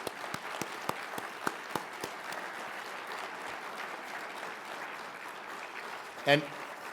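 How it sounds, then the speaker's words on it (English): Applause from an audience at a tribute event honoring a former executive director of the California Rental Association: scattered individual claps at first, then a steady wash of clapping that continues throughout, with a brief louder burst near the end. "Round of applause, please."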